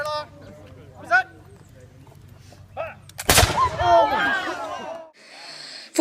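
Musket volley fired by costumed reenactors at Fort King George, Georgia: a drill command is shouted, then one loud, sharp blast at close range with a long echoing tail, and a crowd murmurs faintly afterward.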